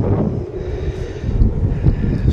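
Strong wind buffets the microphone at a lakeside carp-fishing peg on a low-pressure day, a steady, dense, roaring rumble with no pauses and nobody speaking.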